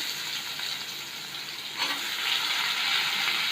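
Finely chopped onion sizzles steadily in hot oil with cumin and asafoetida for a soya chunks masala, a constant close hiss that swells slightly as the onion goes into the pan, with no voices.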